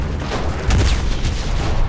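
Steady distant gunfire and explosions crackle through a dense in-game battle in the shooter Enlisted, a continuous rumbling fusillade with a slightly louder burst near the middle and no clear talk.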